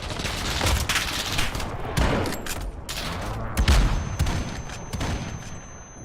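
Dense gunfire and explosions from the Modern Warfare video game form a chaotic battle soundscape of rapid automatic bursts and heavy low booms, loud and continuous throughout.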